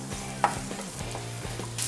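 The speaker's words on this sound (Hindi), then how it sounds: "अभी सभी सब्जियां हम इसमें फ्राई कर लेंगे।" Onion and vegetables such as capsicum, carrot and corn sizzle in oil in a pan, with a steady low fry broken by a few soft scraping stirs and one brighter clink, close and fairly quiet, no voices.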